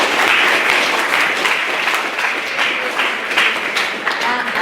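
A debate audience gives a sustained round of applause, a thick, even wash of many clapping hands that fills the room loudly and continuously with no letup.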